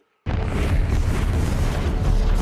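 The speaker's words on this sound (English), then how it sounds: "Why are we firing missiles?" Missiles launching in the sci-fi TV series The Expanse, a sudden loud roaring blast after brief silence that stays heavy and sustained, with no talking over it.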